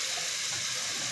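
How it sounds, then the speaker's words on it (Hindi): A small splash of water goes into simmering chicken karahi gravy in a home kitchen, giving a steady close hiss and pour with no talking. "इसमें ये हम थोड़ा सा ये पानी का ये छांटा देंगे"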